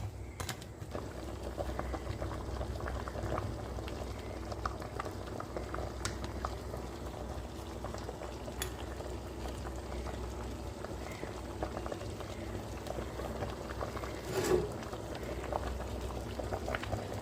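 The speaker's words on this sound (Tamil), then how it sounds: "ஒரு கொதி கொதிக்கட்டும்" Jaffna-style odiyal (palmyra root flour) porridge bubbling at a steady boil in a pot, a continuous close gurgle with soft pops and no voices.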